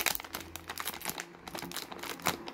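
Plastic toy packaging for a Toy Story 4 dome figure being cut open with scissors, close-up crinkling and sharp snipping crackles in a quick irregular series, with no talking.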